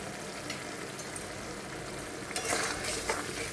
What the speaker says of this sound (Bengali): একটা মশলাটা ভালো করে ভাজা হোক